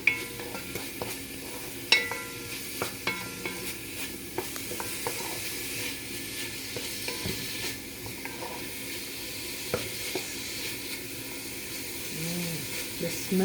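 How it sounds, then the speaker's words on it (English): Soy sauce noodles stir-frying in a pan before shrimp goes in, a continuous moderate sizzle broken by frequent clicks and scrapes of a utensil against the pan, with some speech faintly present. "You just stir fry it for about a minute or two."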